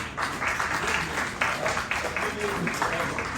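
Audience applause at an awards and convocation ceremony in Indore, a continuous patter of many clapping hands at moderate volume, with a voice talking over it in places.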